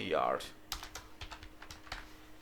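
Computer keyboard typing while writing React JSX code, a run of light, uneven key clicks close by after a brief voice at the start, with a faint steady hum underneath.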